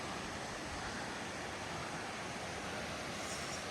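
Tindhara waterfall in Nepal, reached by dirt bike, gives a steady, dense broadband rush of falling water, loud and unbroken throughout with no voices over it.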